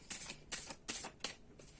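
Tarot cards shuffled by hand in four quick crisp riffling bursts, each a short papery flutter about a third of a second apart, close and fairly quiet, with no talking.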